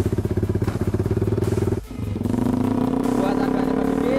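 A Yamaha Vixion motorcycle with an old twin-pipe exhaust is push-started in third gear: a rapid rhythmic chugging stutters, cuts out briefly, then catches into a steady running drone, with a voice speaking over it.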